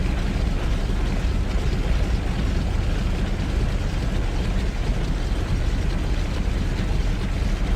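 A simulated aircraft engine roars steadily in flight in Flight Simulator X, a loud, unbroken broadband drone with a heavy low end that stays constant throughout, with no voices.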